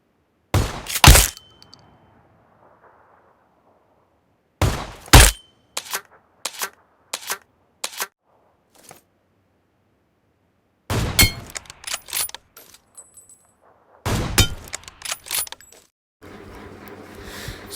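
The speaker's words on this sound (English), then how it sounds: "the AWM destroys the level 3 helmet in two shots?" AWM sniper rifle and shotgun shots striking a level 3 helmet in PUBG Mobile: sharp, close cracks and metallic thunks, some alone and some in quick clusters, between stretches of near silence.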